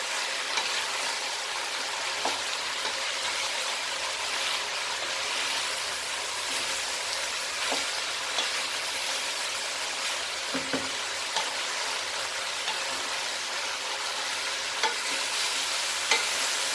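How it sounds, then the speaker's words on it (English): Vegetable stew in a pan, steadily stirred and sizzling as a continuous hiss with faint occasional scrapes, no voices. "Mix this nicely."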